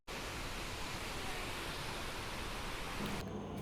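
A 60-foot forest waterfall gives a steady, even rushing roar like heavy rain, unbroken from start to finish, fairly soft and without speech.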